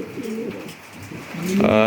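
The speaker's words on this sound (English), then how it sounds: "So we'll be testing all these pigeons, all these new incomers into the stock loft." Pigeons coo in a stock loft, a run of low, throaty rolling calls that overlap and swell louder toward the end, close to the listener.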